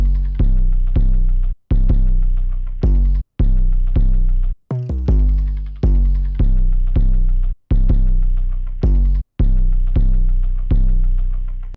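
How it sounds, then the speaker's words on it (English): Loud, deep 808 bass pattern from an FL Studio trap beat, with booming sustained notes cut off by short gaps in a bouncing rhythm and one brief glitchy stutter midway, heard alone. "the 808 pattern is going to sound like this"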